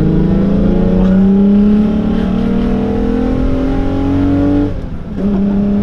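A Volkswagen Golf VR6 with engine damage revs hard and loud on its own, engine pitch climbing steadily for several seconds, then dipping briefly before rising again.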